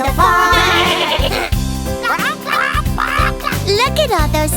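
A singing voice imitates a goat's bleat with repeated rhythmic 'meh' calls over a loud, bouncy nursery-rhyme backing track with bass and melody, set on a cartoon farm with a goat riding a tractor.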